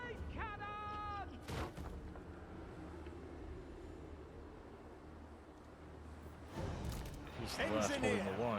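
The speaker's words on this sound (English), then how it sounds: "Great cannon!" Booming cannon fire in a fantasy video game battle, heavy rumbling blasts and impacts rolling under a continuous din of combat, with voices shouting over the fighting.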